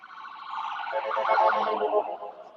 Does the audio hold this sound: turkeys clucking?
no